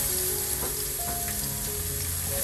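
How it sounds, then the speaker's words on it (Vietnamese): Garlic and chili frying in oil in a pan, a steady close crackling sizzle throughout with no talking. "sau đó mình cho tỏi và ớt vào để mình phi thơm"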